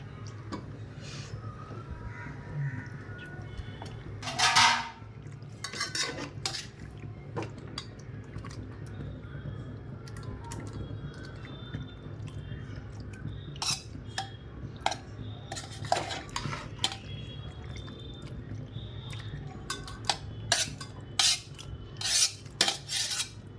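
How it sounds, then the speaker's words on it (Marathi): Pasta is tipped into a pan and stirred with a utensil, giving faint scraping and scattered sharp clinks of metal on the pan against a low background hum, with no talking. "पास्ता ॲड करून घेतलं. आता थोडं हलवायचं"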